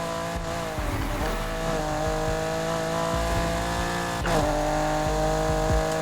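A BMW E30 M3 EVO II race car in Need for Speed holds a steady, droning engine note at high speed, with faint tire noise and a couple of brief scrapes or bumps.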